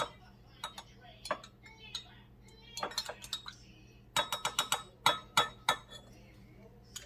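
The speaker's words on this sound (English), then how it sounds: "just whisk that together" Tablespoon whisking ingredients in a bowl for an oven roast, heard as a string of sharp metallic clinks against the bowl, scattered at first and then quick bursts of rapid taps, close and moderately loud.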